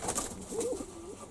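Young pigeons in a dovecote give soft, low cooing calls, two gentle rolling coos over a faint background hum.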